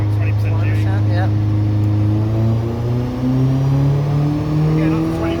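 An Astra H VXR with an EFR turbo conversion revs under load, engine pitch climbing steadily in a loud, close drone.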